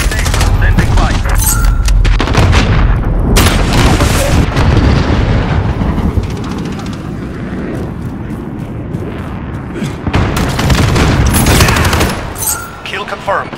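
Heavy gunfire and artillery in Call of Duty: Modern Warfare, a loud, dense barrage of automatic shots and deep booming blasts that eases midway and then swells again, with radio-style voices breaking in.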